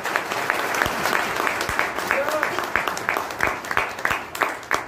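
An audience at a direct selling business talk bursts into sustained applause, a dense, steady clatter of many hands clapping at close to moderate range, with no voices heard over it.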